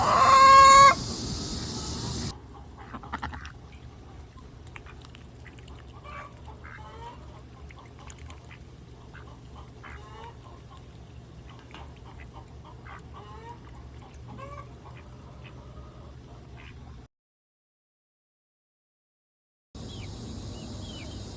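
A flock of chickens clucks, with soft, scattered calls at mid-distance. The sound cuts out briefly into silence before the birds return.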